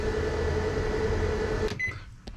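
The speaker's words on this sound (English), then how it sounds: "This is a convection microwave, so a coffee maker or anything like that, no problem." A 1,750-watt convection microwave oven runs with a steady loud hum and drone for about a second and a half, then shuts off, leaving a short beep and a faint click.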